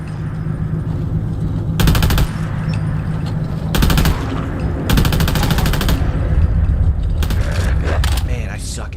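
Video game gunfire: loud bursts of rapid automatic shots come in several clusters, each lasting about a second, over continuous game background sound, with a person talking throughout.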